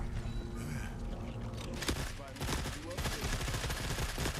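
Dense automatic gunfire from a gun in the video game The Forever Winter, a continuous loud fusillade of overlapping shots and booms.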